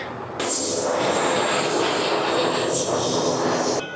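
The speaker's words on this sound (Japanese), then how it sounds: "超小型プロペラ機" A loud, steady engine drone of a very small propeller plane fills the cabin on a domestic Myanmar flight from Yangon to Mandalay, a constant roaring hum with a faint whine on top that stops abruptly.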